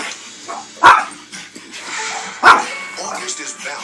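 A dog on the field at the Puppy Bowl gives two sharp barks a second and a half apart, close and loud, with softer whines and a television announcer talking between them.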